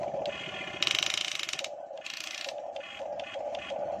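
A newly unboxed Huina toy RC excavator's gear mechanism grinds and ratchets harshly in close, loud bursts with short pauses between them, alone without talk.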